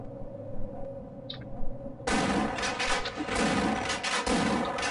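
Shotgun fire in the Half-Life video game: after two quiet seconds of faint game ambience, a loud, sustained burst of blasts and echoing gunfire fills the rest of the moment, with repeated heavy booms rolling one after another.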